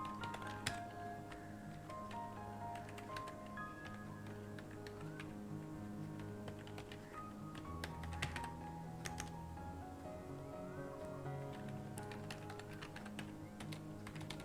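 Steady clicking of a computer keyboard as someone types into Notepad, quick irregular keystrokes close to the microphone over faint background music, with no talking.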